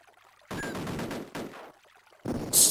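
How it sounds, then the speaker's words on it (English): Rockets fired in the Amiga game Cannon Fodder: two loud, rough blasts of explosive noise with a short gap between them, then a third burst that ends with a hiss. No voices are heard. "Right, let's see if we can use those rockets."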